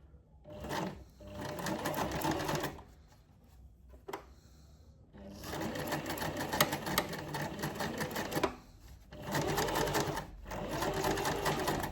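A sewing machine stitches fabric in a sewing workshop, running in rapid mechanical bursts of rattling stitches with short pauses and clicks between runs, heard close up.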